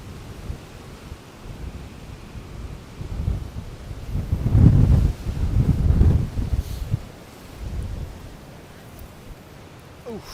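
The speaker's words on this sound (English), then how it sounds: "that wind hits you right as you get off the boardwalk" Strong gusts of wind buffet the microphone on Miami Beach just off the boardwalk ahead of Hurricane Milton, a steady low roar swelling into louder blasts midway with a faint surf wash beneath.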